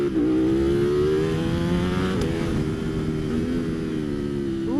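A Ducati Panigale V4 SP2 sport motorcycle at speed down a straight, its engine holding a loud, steady high-pitched drone close to the rider with only slight pitch shifts and no break.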